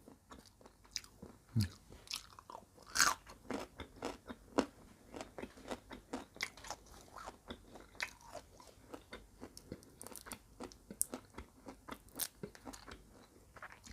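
Fried cockroaches eaten with sticky rice, crunched and chewed close to the mic in a steady run of sharp, crackly bites and mouth clicks, with no talk.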